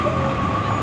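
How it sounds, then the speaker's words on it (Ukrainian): Steady low rumble and rolling hum of a newer-model tram moving along a street in Košice, Slovakia, with a faint tonal whine running throughout, no voices. "Це якийсь трамвай трошки новішої моделі."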